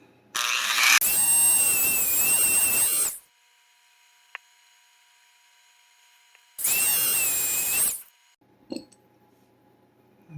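A power tool grinds through a MoonSwatch watch case in two loud, steady bursts of about two seconds each, separated by quiet, with a short tick and a small clatter afterward.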